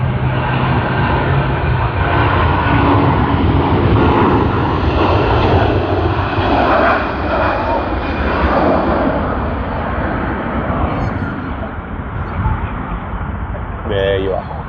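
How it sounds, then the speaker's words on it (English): A Qantas Airbus A380 jet takes off from Sydney Airport, its engines roaring loud and steady for the whole stretch, then slowly easing off, with no voices over it. "QF81, Sydney to Singapore Changi, on the Airbus A380."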